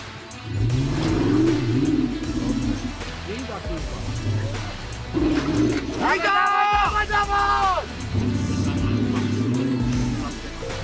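A car engine drones steadily and revs up in a rising whine midway during off-roading in Corsica, with voices talking over the engine noise.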